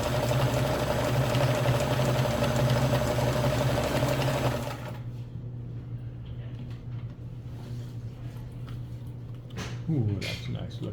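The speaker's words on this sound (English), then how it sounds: "so now we're making a zigzag stretch stitch" A Kenmore 158.1400 sewing machine stitches a zigzag stretch stitch with a loud, fast, steady mechanical whir for about five seconds, then stops. A quieter hum and a voice follow.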